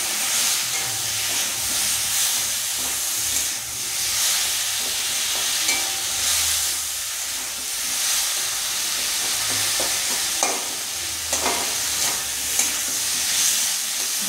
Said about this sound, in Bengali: দিয়ে ভালো করে মশলাটা কষিয়ে নেব